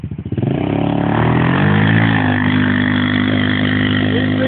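An ATV engine sputters in quick pulses, then a throttle blip carries it into a loud, sustained rev that holds steady close by, with no speech.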